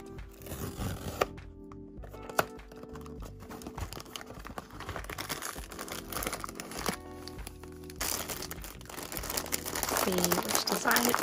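Blind box foil packaging torn open by its tear tab, a busy crinkling and ripping of foil close up, with rustling handling throughout and a voice speaking over it.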